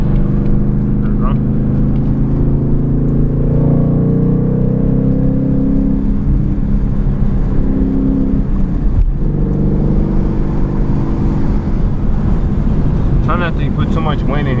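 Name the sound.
2020 Ford Mustang 5.0 with muffler delete driving at night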